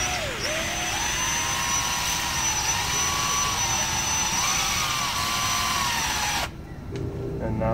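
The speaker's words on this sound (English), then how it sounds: "I'm gonna make these two strings stronger by twisting them together, and I'm gonna use my drill to do that" A cordless-style power drill whines steadily as it twists two strings together into a stronger cord, its pitch wavering slightly as the load changes, running loud and close for about six seconds before stopping abruptly.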